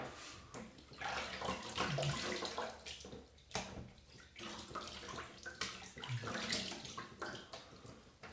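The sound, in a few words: rinsing a trimmer under running tap water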